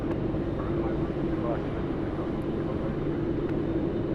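A China Eastern airliner takes off from runway 16 right at Sydney Airport, a steady low jet rumble that runs the whole time beneath a speaking voice.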